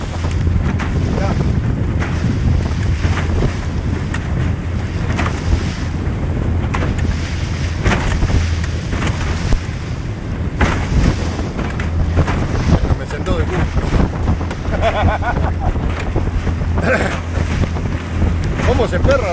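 Big, short, steep waves on the Uruguay river pounding around a boat, with loud gusting wind buffeting the microphone and constant water rush; a voice speaks intermittently beneath the roar.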